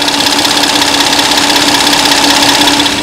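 A Hyundai Aslan car engine in good condition idles steadily up close, a constant low hum with a faint rhythmic knock, no voices.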